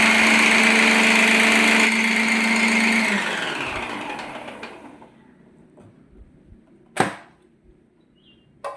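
A mixer grinder chops onion and cabbage, running loud with a steady whine for about three seconds and then spinning down into quiet, followed by a few faint knocks and one sharp clatter.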